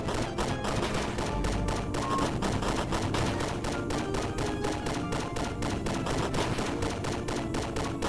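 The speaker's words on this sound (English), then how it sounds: "Okay, I shoot them." Steady rapid-fire shooting in a video game rattles on continuously, a fast even stream of gunshots at constant loudness with no pauses.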